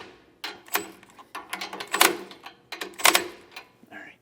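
Nuts being snugged down on a steering stabilizer bracket of a Safe-T-Plus kit on a 2020 Entegra coach, heard as a series of close metallic clicks and ratcheting bursts in irregular clusters, no talking.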